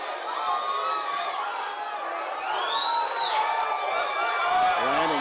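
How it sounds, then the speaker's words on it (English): A fight crowd on its feet roars and cheers in a big arena, a dense, loud wall of shouting and whoops with chatter mixed in, swelling slightly toward the end. "The crowd is on their feet."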